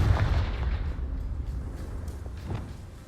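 A Confringo spell explosion in Hogwarts Legacy: a heavy booming blast up front that rolls off into a low rumbling tail, with a smaller thump near the end.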